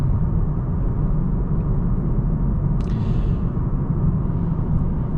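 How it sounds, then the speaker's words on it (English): Steady low road noise inside a 2026 Nissan Sentra SR on the move, a constant broadband rumble and tire roar with no talk, one brief faint click partway through. "there's a little bit of road noise coming in"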